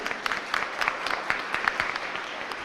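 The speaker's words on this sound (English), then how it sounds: "Please give him a round of applause" Audience applause at a flagship event after a speaker's question, moderate clapping from a modest crowd with distinct individual claps audible throughout.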